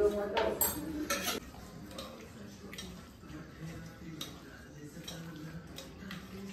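A spoon stirs chicken curry with yogurt in a large pot, giving repeated clinks and scrapes against the metal. They are loudest at the start and then settle into softer, steady stirring with faint voices in the background.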